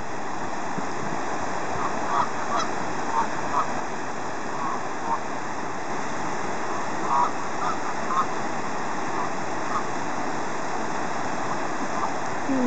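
Geese stand on a waterfall, the steady broadband rush of falling water filling the scene while a few faint honks poke through at scattered moments.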